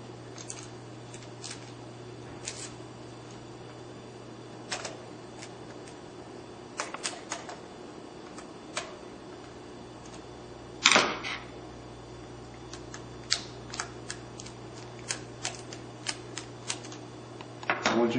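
X-Clamp kit screws being started on an Xbox 360, close, sharp little clicks and ticks in irregular bursts, with one louder knock partway through, over a faint steady hum.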